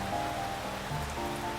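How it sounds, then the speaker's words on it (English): Cartoon rain falls steadily in a thick, cold fog, a soft continuous patter of drops on surfaces with a faint tonal hum beneath, even and unbroken throughout. "It's raining too."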